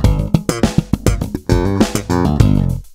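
Slap bass guitar line played at full speed, a quick run of punchy slapped and popped notes over about three seconds, loud and up close with no voices.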